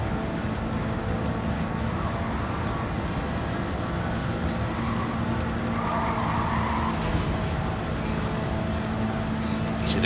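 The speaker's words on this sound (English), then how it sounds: "See, the car is sliding more" A race car slides and skids in Gran Turismo 7, its engine roaring in a loud, unbroken drone with tire scrub mixed in for the whole stretch.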